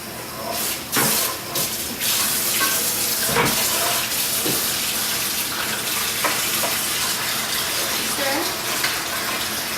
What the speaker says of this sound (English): You can use a bathtub to fill it up.